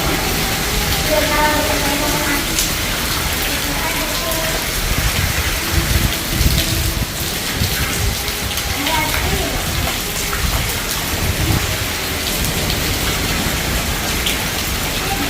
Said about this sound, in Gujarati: આગળ વરસાદ ધીરો પડ્યો